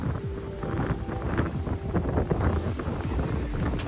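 Strong wind in Montenegro during the November rainy season buffets the microphone in gusty, uneven rushes, loud and blustery with low rumbling throughout and no talk.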